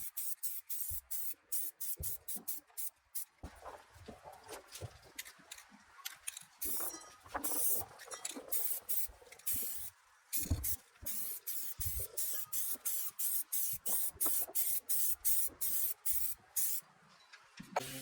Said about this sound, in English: I'm spraying that clear on, and that is about 3 coats of the black primer